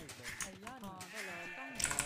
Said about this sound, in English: Oh, I have sheep, true!